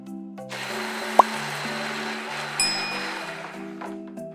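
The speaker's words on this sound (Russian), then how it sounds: "Теперь нужно пробить смесь блендером, чтобы краситель равномерно распределился." A blender whirs steadily as it mixes a neutral mirror glaze with food colouring for a leopard-effect cake. The motor hum holds for several seconds, with a sharp click near the start.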